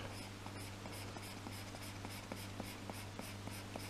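Stylus pencil hatching on a Surface Go touchscreen: a run of quick, evenly spaced light ticks and scratches, roughly three per second, close and clear over a steady low hum, with no voices.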